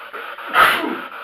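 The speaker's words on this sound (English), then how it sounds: "That was me sneezing." A single loud human sneeze bursts out near the middle of a quiet indoor stretch, with soft breathing before and after.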